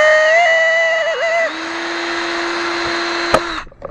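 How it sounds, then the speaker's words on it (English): A worn power drill boring into plastic during a truck power inverter install, a loud close whine that drops in pitch midway under load, then cuts off abruptly. "This drill is, I think it's on its last leg."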